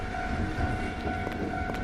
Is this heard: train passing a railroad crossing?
yes